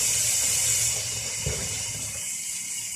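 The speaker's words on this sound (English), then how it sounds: "Now, I'm gonna wash my hands." Tap water runs and splashes in a sink as hands are washed in a kitchen, a steady close rush that softens and thins out toward the end.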